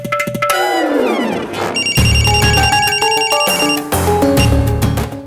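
A telephone ringing on an outgoing call, a loud electronic ringtone of bright repeating tones that rise and shift in pitch, heard alone without talk.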